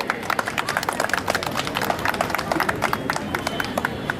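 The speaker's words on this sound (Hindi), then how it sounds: "तो जोरदार तालियां इनके लिए।" Loud crowd applause at the opening ceremony of a Himachal Pradesh university inter-college football championship, dense steady clapping from many hands lasting throughout.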